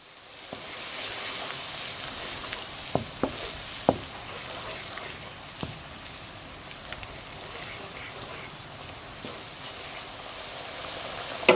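Sake and soy sauce sizzle in a frying pan while cooking mapo doufu, a steady close hiss with a few sharp crackles and pops scattered through.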